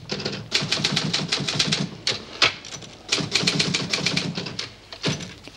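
Rapid clacking of typewriter keys in an office setting, bursts of quick strokes separated by brief pauses, close and fairly loud with no talking.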